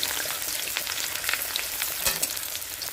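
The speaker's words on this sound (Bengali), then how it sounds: "তেলের উপর দিয়ে দিলাম এই যে কুচনো পেঁয়াজ" Chopped onions crackle and sizzle in hot oil in a pan, a bright continuous frying hiss with a few stirring scrapes, close up and without talk.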